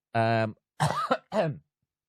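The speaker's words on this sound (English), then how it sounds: "coughing his fucking lungs up" A man coughs and clears his throat in three harsh bursts, close and loud, with short pauses between them.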